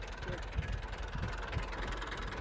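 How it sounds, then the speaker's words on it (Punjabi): A steady low tractor engine rumble idles throughout, with faint uneven thumps and a continuous mechanical hum close by, on a farm in Afghanistan. "ਇਹ ਬਾਈ ਕਹਿੰਦਾ ਇੱਧਰ ਦੀ ਲੈ ਜਾਣਾ ਟਰੈਕਟਰ"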